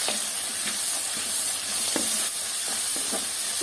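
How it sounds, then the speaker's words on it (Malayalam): Onion with cinnamon and fennel frying in hot oil for a beef bone curry, a steady close sizzle and hiss with soft scrapes of stirring scattered throughout. "അതൊന്ന് പതുക്കെ ആ എണ്ണയിലിട്ട് ഇതൊന്ന് ആക്കിയിട്ട് ബാക്കി ഉള്ളിയും കൂടെ നമുക്കൊന്ന് മൂപ്പിച്ചെടുക്കാം"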